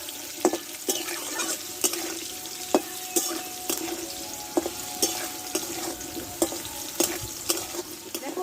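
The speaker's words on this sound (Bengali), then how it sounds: "আলুটা অর্ধেকটা কষে নিয়েছি আমি এর ওপরে পটলগুলো দিয়ে দেবো" Potatoes sautéing in a pan with turmeric and salt, ahead of adding pointed gourd for a dry spicy dish: a steady close sizzle broken by sharp, repeated scrapes and knocks of a spatula stirring, with no talking.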